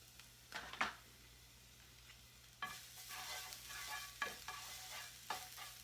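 Two cloves of garlic fry in about a tablespoon of clarified butter, giving a soft, steady sizzle with bursts of stirring and scraping in the pan, quiet at first and then livelier.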